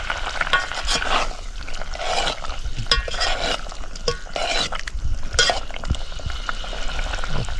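Egg curry is stirred in a pan over a night campsite fire, with loud rhythmic scraping and sloshing strokes and a bubbling sizzle running under them.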